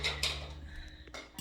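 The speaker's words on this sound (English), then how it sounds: "He is rinsing out the blender to get that going." Kitchen blender being rinsed out at home, with water and clattering dish and utensil clinks through a short, fairly close burst, no talking.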